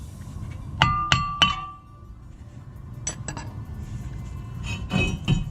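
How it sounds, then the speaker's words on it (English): Metallic clinks and clanks as a brake rotor is removed from a Chevy Malibu front axle, a quick cluster of three sharp ringing knocks followed by a few lighter taps later, close and alone. "with the screw out, we can remove the rotor."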